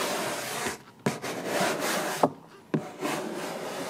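A squeegee rubs vinyl graphic onto a Jeep body panel in overlapping strokes, producing close, dry scraping swipes with a few sharp knocks between strokes.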